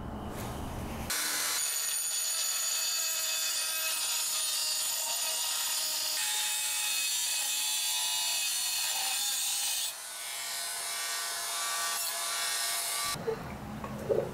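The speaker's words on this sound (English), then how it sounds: "I'm going to modify it by cutting off this little piece here with a Dremel tool" A Dremel rotary tool cuts a small piece off a steel cam bearing retainer during a Yamaha XT225 / TTR230 engine upgrade, giving a steady high-pitched grinding whine that runs for about twelve seconds with a brief dip near the end.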